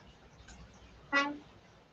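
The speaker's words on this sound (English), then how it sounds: "I honked at him, waved" A single short car horn honk, somewhat distant and moderately loud, against low background noise.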